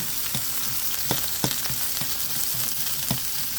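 Green peppers and onions fry in a little virgin oil in a pan, a close, constant sizzle with a few sharp ticks and spatula taps breaking through at irregular moments.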